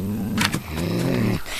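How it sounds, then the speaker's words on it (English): A dog growls in a low, continuous, rumbling rattle lasting over a second, close and fairly loud, with a brief sharper burst partway through and no talking over it. "Do you hear that, beastly growl?"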